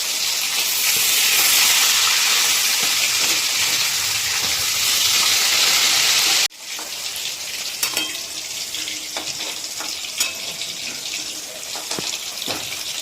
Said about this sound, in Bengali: বাকি যে মাছের পিসগুলো ছিল সেগুলো কিন্তু লাল লাল করে ভাজা হয়ে গেল